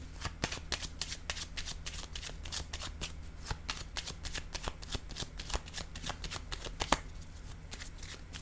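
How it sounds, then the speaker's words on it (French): Tarot cards being shuffled and drawn, a dense, steady run of crisp riffling snaps and flicks at close range, continuous for the whole stretch with no voices. "je vais piger une carte sur le masculin"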